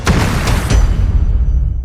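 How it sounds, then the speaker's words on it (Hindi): A single deep explosion booms and rumbles, loud and close, its low roar rolling out and fading over about two seconds with no voices. "खौफनाक धमाका हुआ"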